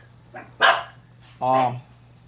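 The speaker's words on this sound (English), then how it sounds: "They only bark if there's a stranger. Like a stranger approaches the property. In this case, somebody walks by." Japanese Chin lapdogs bark at a passerby near the property, two or three short, sharp yaps close by over a low steady hum.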